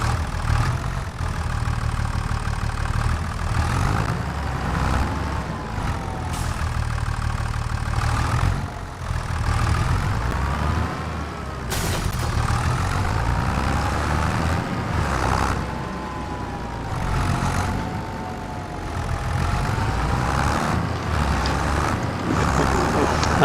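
A Farming Simulator 25 tractor with a trailer idles in a steady, low mechanical drone, continuous and moderately loud, with slight shifts in pitch as the engine note varies.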